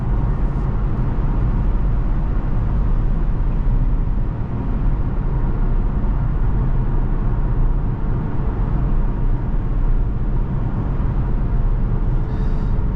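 A 2011 Aston Martin Rapide is heard from the cabin while driving. Its loud, steady low engine and road rumble fill the whole stretch without a break.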